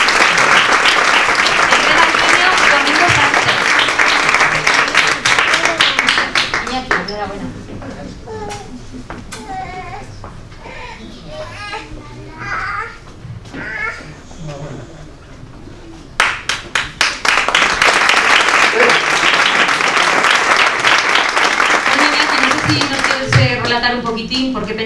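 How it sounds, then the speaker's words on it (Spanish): Loud applause from a crowd at a photography rally awards event bursts out, fades into a quieter stretch of murmuring voices, then swells again into sustained clapping. "Así que un aplauso para Iñaki Gómez."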